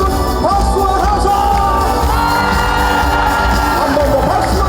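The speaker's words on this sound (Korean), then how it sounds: "한 번 더 우리 고성군민 여러분 박수와 함성!" An outdoor concert audience in Goseong claps and cheers for a singer, with a dense roar of applause, whoops and shouts over a steady musical backing that carries on throughout.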